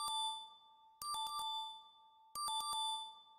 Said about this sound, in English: Clock ringing.